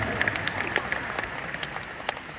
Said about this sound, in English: Give Lynn a round of applause, everyone.